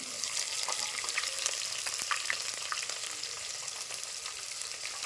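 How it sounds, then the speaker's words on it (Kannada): Onions and green chillies fry in hot oil with mustard seeds in a home kitchen, a steady close sizzle dotted with sharp crackles and pops from the spluttering seeds. "ಈಗ ಈ ಟೈಮ್ನಾಗ ಉಳ್ಳಾಗಡ್ಡಿ ಹಾಕೋತೀನಿ ಮತ್ತು ಮೆಣಸಿನ್ಕಾಯಿ ಹಾಕೋತೀನಿ"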